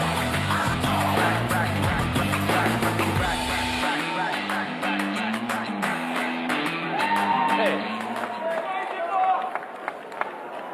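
Large crowd at CPAC 2025 cheering and whooping in a big hall, a dense roar of voices and clapping that persists throughout, with someone speaking over it.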